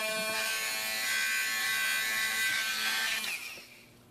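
Harbor Freight Drill Master rotary tool cutting through material, a high, steady whine that sags in pitch as the motor bogs down under load, then drops away near the end; close and loud with no talking.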